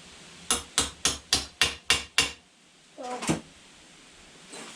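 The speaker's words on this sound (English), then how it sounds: "Just a small hammer." Seven quick, evenly spaced taps from a small hammer ring out close by during a VW T3 restoration, followed after a pause by a brief vocal sound.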